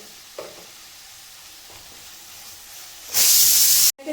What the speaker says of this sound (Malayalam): സവാള ഇഞ്ചിയും വെളുത്തുള്ളിയൊക്കെ വഴറ്റിയെടുക്കാം